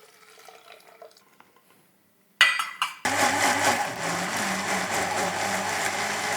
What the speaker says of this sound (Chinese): 现在呢，我们就把全部的这些香料都塞到搅拌机里面